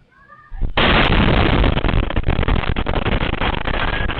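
A sudden loud explosion in Zamboanga City bursts in after a quiet moment, followed by a sustained roaring, crackling rumble with scattered pops.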